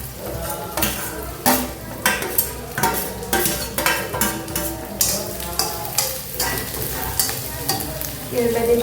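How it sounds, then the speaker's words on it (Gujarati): Cabbage and capsicum stir-fry with golden brown onions in a pan for a Manchurian recipe, a loud continuous sizzle broken by repeated scraping and clanking of a spatula or spoon against the pan, with no talking. "હવે આપણે એમાં નાખી દઈશું કોબી અને શિમલા મિર્ચ."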